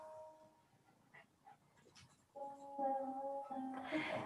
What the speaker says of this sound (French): Il y a mon chien qui s'étouffe.